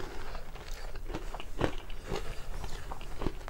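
Close-up crunchy bites and chewing of homemade honey roasted peanut brittle, crisp cracks repeating every second or so over steady munching.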